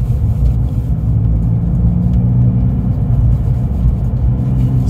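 A car engine rumbles with a deep, throaty roar, loud and steady throughout without pause.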